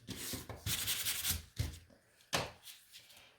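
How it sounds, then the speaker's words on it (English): Sandpaper rubbed by hand across a painted wooden sign in a few short, soft scraping strokes, faint and close with pauses between passes. "I'm just going to sand this one and get it out of the way"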